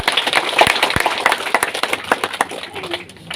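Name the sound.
applause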